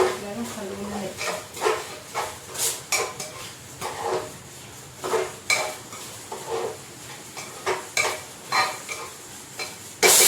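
Rice stirred and fried in oil with cumin in a pot gives rhythmic scraping and clattering strokes of a spoon over a soft sizzle, repeating steadily throughout.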